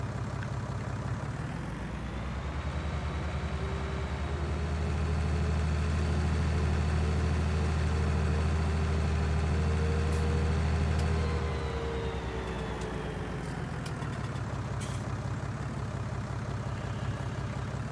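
A tractor engine in Farming Simulator 19 runs steadily with a deep, droning hum that revs up slightly for several seconds then settles back, continuous and close with faint mechanical clicks.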